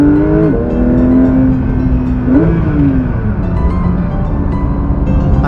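A Porsche 992 GT3 flat-six revs loudly and continuously toward 9,000 rpm through PDK gear changes, its pitch climbing steadily, dropping briefly at a shift, then climbing again, close and dominant throughout.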